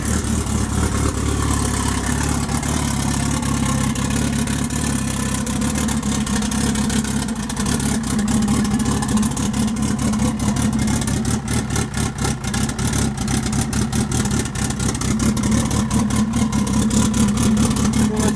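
A Honda Civic engine runs steadily throughout, a low continuous rumble with rapid pulsing texture, rising slightly in intensity later as if revved.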